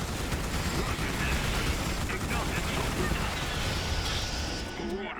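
Howitzer artillery fire in the Starship Troopers: Terran Command video game, heard as a dense, continuous roar of booms and mechanical rumble, loud and close, with the blasts blurring into one another.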